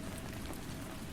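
Steady rain falling outside a window, an even, soft hiss of many drops pattering at close range with no break or voices.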